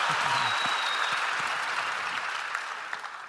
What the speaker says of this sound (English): But do a round of applause, and we're back.